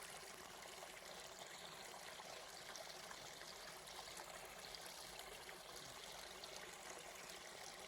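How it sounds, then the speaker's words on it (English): Steady trickling water of a flowing stream, a soft continuous broadband wash with no breaks, faint and even throughout, with no voices. "listen to the flowing stream"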